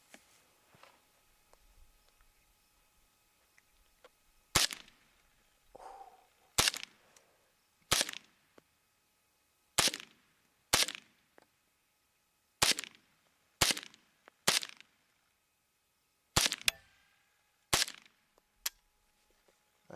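Ten sharp .22 rimfire reports from a 10/22 rifle fired standing into a homemade ballistics gel head, spaced irregularly a second or two apart, each a crisp, close, loud crack with no talking.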